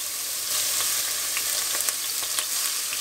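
Onion and crushed garlic fry in olive oil at the bottom of a pot over medium heat, a close, even hiss with small crackles and a few soft stirring scrapes.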